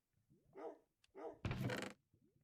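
A dog barks in a Minecraft game stream, two short barks followed by a louder, harsher bark, fairly close and with no talk over them.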